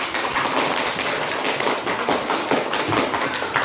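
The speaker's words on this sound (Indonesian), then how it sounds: "Kasih aplaus dulu untuk kelompok" Classroom applause for group 3, a steady wash of many hands clapping at once, fairly loud and continuous throughout with no talk.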